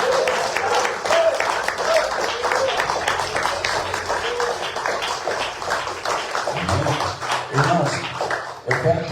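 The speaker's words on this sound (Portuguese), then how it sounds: "As palmas para o Senhor Jesus." A church congregation claps steadily in praise, producing dense, continuous applause that fills the room for several seconds, while voices and music murmur underneath.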